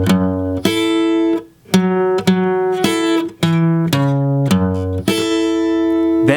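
A 1960s rock guitar riff played slowly on a clean-toned guitar, distinct picked notes and short phrases ringing out one after another with brief gaps, close and loud, with no talking.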